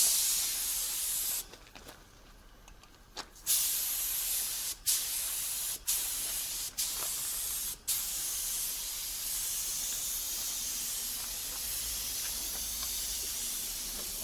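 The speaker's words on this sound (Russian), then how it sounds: "красим структурной краской для бамперов" Textured bumper paint sprays onto the battery cover of an old Volvo FH12 truck, making a loud, close, continuous hiss broken by a few brief pauses between passes, with no talking.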